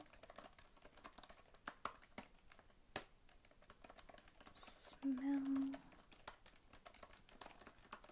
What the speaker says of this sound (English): all I'm going to do is I'm just going to type up your results